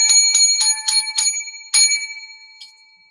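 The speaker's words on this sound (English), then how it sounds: "This is a good quality hotel bell." A hotel desk bell is struck repeatedly, six bright metallic rings with sustained overtones at an uneven pace, then a faint seventh tap, each ringing out clearly with no talk.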